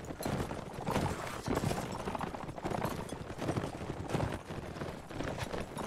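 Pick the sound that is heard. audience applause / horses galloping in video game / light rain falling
horses galloping in video game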